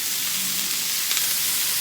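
Chicken skillet ingredients seasoned with pepper, salt and garlic fry in a pan, giving a steady, close, hissing sizzle with a faint stir partway through.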